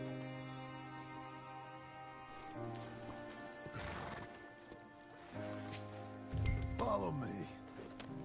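Horse hooves clip-clop in Red Dead Redemption 2 in an uneven, trotting rhythm, with a horse's whinny rising near the end and faint voices in the background.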